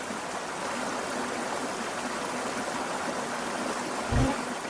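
Massive flood water from a hurricane rushes around a trapped car in a broad, steady roar of churning flow, with a brief low thump near the end.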